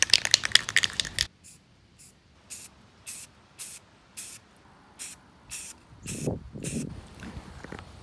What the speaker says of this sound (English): I'm using this flat black spray paint.